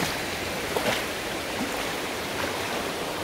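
River current flowing past in a steady broadband wash, even and continuous throughout with occasional faint splashes.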